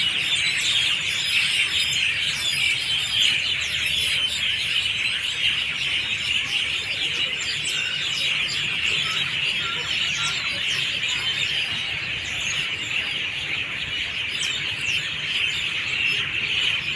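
Dense, constant chirping and tweeting from many birds, a loud high chorus that fills the whole stretch with no pauses.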